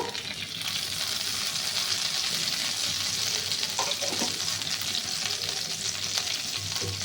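Hot oil sizzles and crackles in a kadai as a Bengali banana flower and prawn dish is prepared, a steady close frying hiss with occasional brief stirring clinks, no talking.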